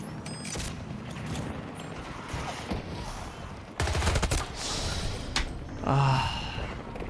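Gunfire and grenade blasts in the video game Battlefield 2042, rapid bursts of shots and sharp explosive cracks at mid distance, with loud impacts around four and six seconds, no clear talk over it.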